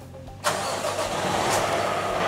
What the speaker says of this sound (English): we're gonna start the truck